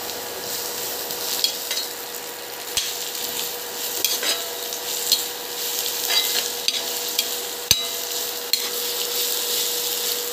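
Carrots fry with onions in a pan, giving a steady close sizzle with repeated spatula scrapes and a couple of sharp clacks against the pan, while poha snacks are being made.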